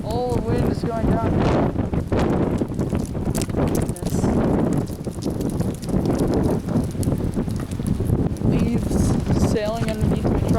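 Blustery 20 to 30 mph wind rushing through a pine tree, a continuous loud roar with rumbling microphone buffeting and occasional voice sounds mixed in.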